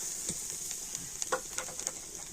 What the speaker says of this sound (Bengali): তো যে নারকেলটা কুড়িয়ে নিয়েছি তো নারকেলটা আমি কড়াতে দিয়ে দিচ্ছি।